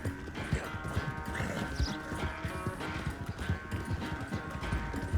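Horse galloping in the video game Red Dead Redemption 2, with rhythmic hoofbeats under game music and ambience, moderately faint and steady.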